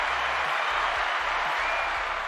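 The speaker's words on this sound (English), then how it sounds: "Does cheering work?" Cheering and applause sound effect: a continuous wash of crowd clapping and cheering, moderately quiet, with a rhythmic low electronic thumping underneath.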